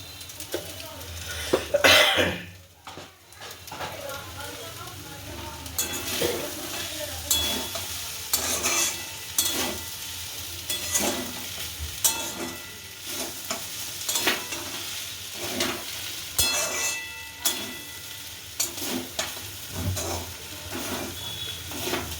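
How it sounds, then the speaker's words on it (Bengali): Broken wheat (dalia) with chopped vegetables frying in a pan, stirred with repeated scraping strokes over a constant sizzle, with a cough early on and otherwise no talking. "দেখেছেন, যত ভাজা হচ্ছে ততই কিন্তু ডালিয়াটা ঝরঝরে হচ্ছে, রঙও চেঞ্জ হয়ে যাচ্ছে।"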